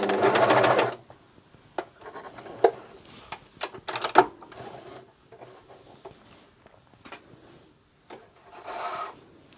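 A Juki MCS1500 coverstitch machine hems a garment in the round, running in a loud burst at the start followed by short stops, clicks and brief stitching spurts, with no talk.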